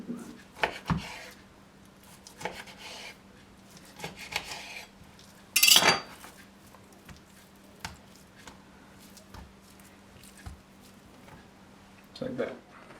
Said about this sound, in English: I'm going to cut it into good sized chunks like this